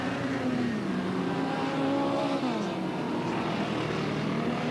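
F1 and F2 stock cars race around Skegness Stadium in 1985, engines droning and shifting pitch as they sweep through a turn, a loud continuous roar from several cars, with no voices.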